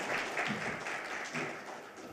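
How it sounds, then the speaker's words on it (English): Audience applause for a panel discussion on local retail in the Northeast, a steady wash of many hands clapping at a distance, fairly faint and continuous without voices. "Big round of applause to everybody here."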